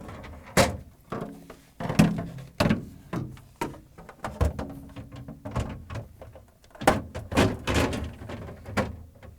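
GE refrigerator crisper drawers slid onto their rails and pushed in, a run of knocks, plastic scrapes and thunks at close range, irregular and fairly loud.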